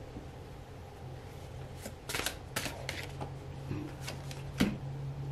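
Tarot cards are shuffled by hand in a series of soft riffling bursts and flicks, close and fairly quiet, over a low steady background hum with no talk.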